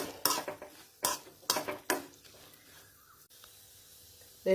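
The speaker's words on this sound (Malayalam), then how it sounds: "ചീനച്ചട്ടിയിലോട്ട് ഇട്ട് കൊടുക്കാം. ഇത് നല്ല ഫ്രൈ ആക്കി എടുക്കാം." Ivy gourd (kovakka) stirred in a wok as it fries: a few sharp metal scrapes and clinks of a utensil against the pan, then a quieter low hiss.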